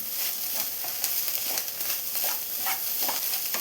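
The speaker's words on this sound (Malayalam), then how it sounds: "ഒരു 2 മിനിറ്റ്സ് കൂടെ ഇതുപോലെ ഒന്ന് മിക്സ് ചെയ്ത് കൊടുക്കാം" Egg thoran is stir-fried in a pan, giving a continuous close sizzle with soft scraping as it is mixed, at a steady, even loudness throughout.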